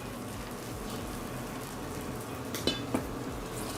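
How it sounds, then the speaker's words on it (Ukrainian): A soft, steady sizzle of shrimp frying in butter in a pan, quiet and continuous, with a couple of light utensil clicks near the end. "Поки смажиться наша креветочка"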